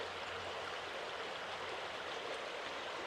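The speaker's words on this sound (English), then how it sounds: "It's nice to be by the river" Steady riverside water flow, a continuous broadband rush with no breaks, heard alone at moderate distance.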